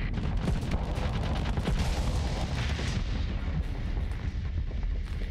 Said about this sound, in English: Guys are just exploding left and right.